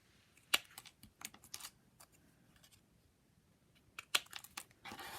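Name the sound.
clippers cutting card for a card kit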